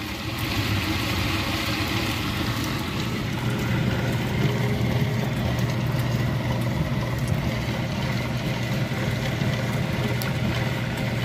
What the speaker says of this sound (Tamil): இது அல்ட்ரா கிரைண்டர்.